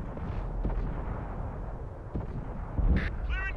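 A tank cannon fires in a tank battle video game, a deep boom near the end above a steady rumbling engine drone.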